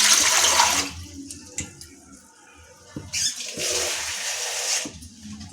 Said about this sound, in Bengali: সসপ্যান বসিয়ে আমি ঠিক এতটা জল দিলাম।